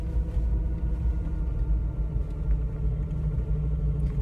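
An electric Suzuki Sidekick climbs a steep hill at about 5 miles an hour, giving a steady low rumble of drivetrain and road noise that holds at an even level throughout, with no voices.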